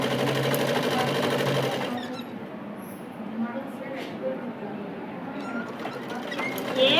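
A sewing machine stitches cloth with a loud, rapid mechanical whir for about two seconds, then stops, leaving softer handling sounds and faint background noise.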